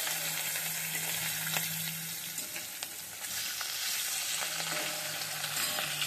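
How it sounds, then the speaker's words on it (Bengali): Hilsa fish from the Padma, seasoned with salt and turmeric, sizzles steadily in hot oil in a home kitchen, a continuous crackling fry with occasional louder pops and no speech. "এই তো আমি এখন ইলিশ মাছ ভেজে নিচ্ছি লবণ আর হলুদ দিয়ে।"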